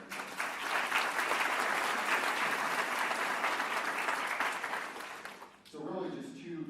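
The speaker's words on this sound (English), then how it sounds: "give them a round of applause" An audience at a quarterly gathering gives a full round of applause, dense clapping that holds steady for several seconds and then cuts off as a speaker's voice takes over.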